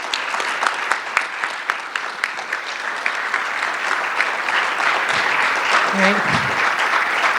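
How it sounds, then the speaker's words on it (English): An audience at a cannabis patients' storytelling event applauds the panelists, sustained close clapping that runs for several seconds with a voice speaking over it toward the end. "Let's give a round of applause again for these wonderful people here that came to share."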